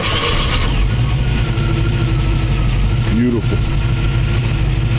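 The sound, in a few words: 1932 Ford coupe V8 engine starting and idling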